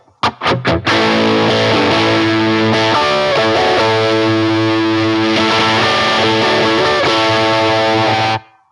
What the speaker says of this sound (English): I've also got a tone with a phaser on it as well